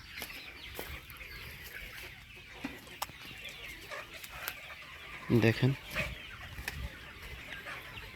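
Laying hens clucking inside a poultry farm, scattered soft clucks and calls at moderate distance, with one louder burst of squawking midway, while someone talks over them.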